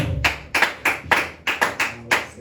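A church congregation clapping in a steady rhythm, about nine sharp claps in a little over two seconds, close and loud, with no talk.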